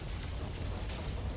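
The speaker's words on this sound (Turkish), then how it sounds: "Hepsi patladı." Ships blowing up in No Man's Sky: a dense, steady low rumbling roar of explosions with broadband noise, sustained and fairly loud throughout, no voices over it.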